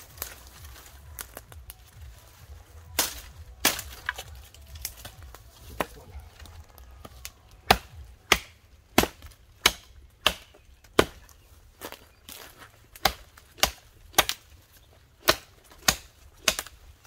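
Cold Steel Tanto machete chopping into a fresh tree in a forest, a string of sharp, loud woody strikes at an irregular then steadier pace, close by, with faint distant voices of youngsters in the background.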